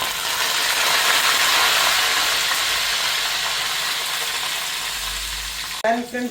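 Loud, dense sizzling of leaves hitting hot oil fills most of the clip, fading slightly before a brief clatter at the end.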